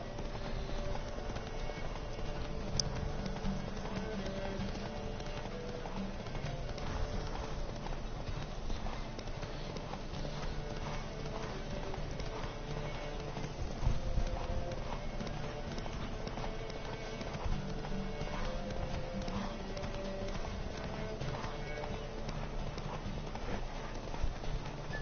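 Horse hooves gallop in the video game The Witcher 3: Wild Hunt, a steady fast clip-clop rhythm held for about 25 seconds over a dense game soundscape, loud and close, with no speech.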